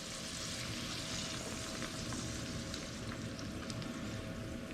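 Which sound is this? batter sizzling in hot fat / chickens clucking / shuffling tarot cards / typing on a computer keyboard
batter sizzling in hot fat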